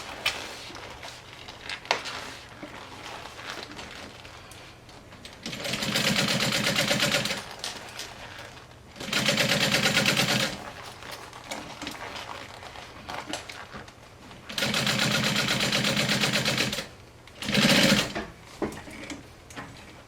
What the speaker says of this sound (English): If you're doing this on a domestic sewing machine